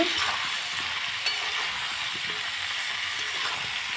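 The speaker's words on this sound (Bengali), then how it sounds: "পটলটাকে ভালো করে হালকা মানে হালকা ভেজে নেব" Pointed gourd fries lightly in a pan, giving a bright, steady sizzle with a few faint stirring clicks, close and continuous, with no voices.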